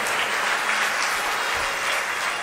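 An audience claps steadily in a dense, even wash of applause at moderate volume, with no voices standing out.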